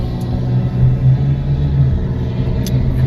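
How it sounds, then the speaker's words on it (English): A loud truck rumbles past nearby with a deep, steady engine drone that swells and holds for a few seconds. "That's a loud-ass truck."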